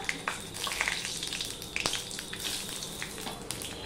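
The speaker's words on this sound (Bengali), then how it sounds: "দেখো ফোড়ন, এবার আমি ফোড়ন দেবো।" Panch phoron spices and bay leaves crackle and sizzle in hot oil, close and moderately loud, with sharp spitting pops scattered through a continuous frying hiss.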